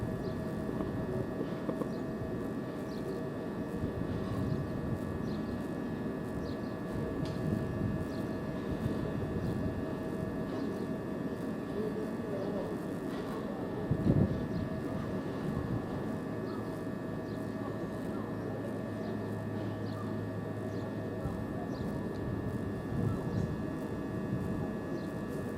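Train slowly rolling into the depot at Ramsgate station, a steady low engine rumble with a faint hum, continuous and fairly distant, with a brief thump partway through.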